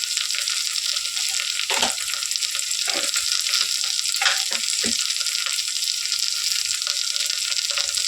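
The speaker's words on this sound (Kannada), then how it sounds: "ಇದು ಚೆನ್ನಾಗಿ ಇವಾಗ ಎಣ್ಣೆ ಫ್ರೈ ಆಗಿದೆ" Turmeric hitting hot oil in a pan for a field bean curry: a steady, bright sizzle that fills the whole stretch, broken by a few scrapes and taps of a spoon stirring, no voices.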